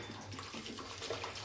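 Ice water is poured into blended mint lemon juice, a brief, soft, splashy stream of liquid that is heard close by and stays faint.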